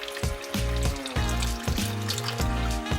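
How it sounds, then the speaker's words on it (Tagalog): Water poured into a pan of nangka (jackfruit) jam mixture, a short steady splashing pour of about a quarter cup, heard close up with repeated stirring knocks and no talk. "Kailangan natin maglagay ng tubig."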